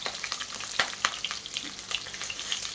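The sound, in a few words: green and dried red chillies sizzling in hot oil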